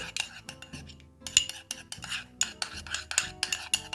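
Spoon stirring olive oil and mustard in a bowl, giving quick, steady clinking and scraping taps at close range, with no talking.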